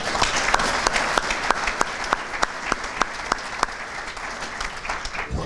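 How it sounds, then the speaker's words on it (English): A crowd applauds students at a high school civic day event, a steady, dense wash of clapping that holds evenly for several seconds with a few sharper claps standing out near the front. "How about a round of applause for the students and those who made this day possible?"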